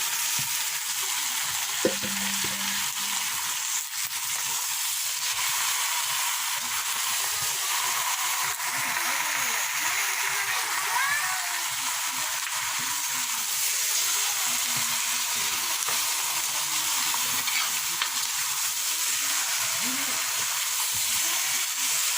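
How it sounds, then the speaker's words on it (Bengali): Meat just added to a spice masala in a pan, frying with a loud, continuous close hiss and sizzle that runs unbroken throughout, with faint stirring underneath and no voices. "মশলা ঠিকঠাক হয়ে গেছে। এবার মাংসটা দিয়ে দিচ্ছি।"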